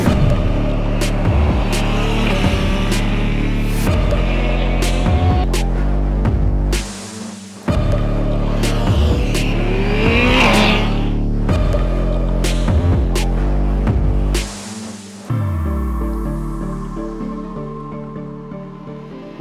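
A Suzuki GSX-R 1000 sport motorcycle on track at Mallory Park, fitted with Dunlop SportSmart TT tyres. Its loud, close engine climbs in pitch through repeated gear changes, breaks off at two shifts and ends with a falling rev as it eases off.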